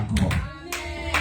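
A church congregation applauding, a short burst of clapping hands with a few louder claps, heard briefly under a faint voice.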